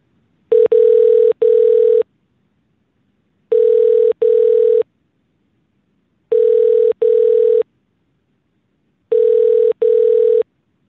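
Telephone ringing tone as a call to a nursing home is put through, four loud double-burst rings evenly spaced with silence between, no talk.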